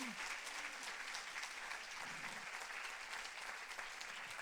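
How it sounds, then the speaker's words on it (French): A church congregation at an evangelistic gathering claps steadily for Jesus, a continuous, even roar of many hands that sounds somewhat distant, with a brief voice cutting in near the start. "Possiamo fare un grande applauso"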